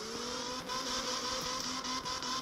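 A drift car engine in CarX Drift Racing on a touge mountain track revs steadily with a few brief dips and surges, close and fairly quiet, with no talking over it.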